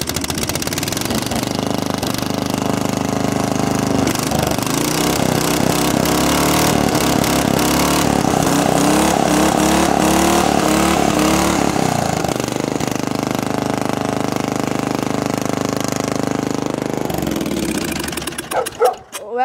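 A riding mower engine with a custom exhaust roars loudly and steadily with a rough, rattling exhaust note, revving slightly before cutting out abruptly near the end.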